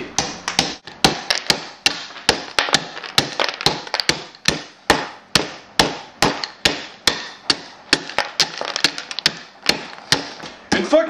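Potatoes being pounded to mash them, a steady run of sharp, close thuds at about two per second that continues throughout, with no speech.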